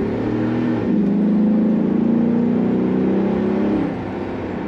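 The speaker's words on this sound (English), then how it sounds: "Great rumble to that exhaust." A yellow and black 2006 Chevrolet SSR convertible pickup with an automatic transmission accelerates, its exhaust giving a steady, close, loud rumble that swells in pitch and then eases off near the end.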